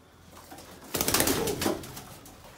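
Pigeons coo in a short, soft burst nearby, a low throaty warble rising and fading over a quiet background.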